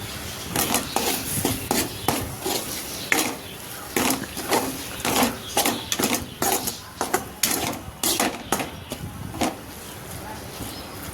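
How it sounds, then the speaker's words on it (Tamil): A spatula scrapes and knocks steadily against a pan while egg podimas, scrambled egg, is stirred, making a rhythmic run of clattering strokes at close range. "நல்லா கிண்டி விட்டுட்டு அப்புறம் எல்லாத்தையும் ஒன்றா மிக்ஸ் பண்ணி கிண்டுங்க"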